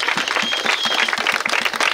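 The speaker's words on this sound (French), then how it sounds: "Acclamez pour Jésus" Congregation applauding at a baptism service for 77 people in Yopougon, a dense, continuous crowd clapping with rapid overlapping hand claps that stay loud throughout, no talking.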